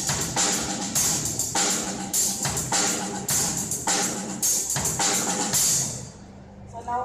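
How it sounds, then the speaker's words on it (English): A drum kit groove mixes hi-hats and snare with bass drum kicks, the second kick shifted later in the bar, playing loud and close in a steady repeating pattern for several bars before stopping with a brief ring-out, heard at a Mumbai drum workshop. "instead of playing the second bass drum note on third quarter note, I'll shift it to the end of the third quarter note"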